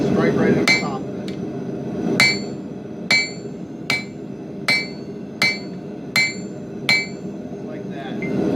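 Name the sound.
hammer striking steel on an anvil while forging a knife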